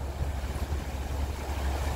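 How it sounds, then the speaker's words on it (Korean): Rough sea with heavy waves off a coastal village, heard as a dense, continuous low rumble and wash of surf, loud and close, without any talking. "지금 파도가 이렇게 너무 많이 심해가지고 제가 좀 보여드리겠습니다."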